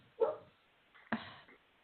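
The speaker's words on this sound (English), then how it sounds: "the dog barking in the background" A dog barks twice in the background, two short faint yaps about a second apart in an otherwise quiet room.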